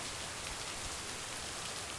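Rain falls steadily outdoors near an awning by a lake, a soft, even hiss of drops with no talking.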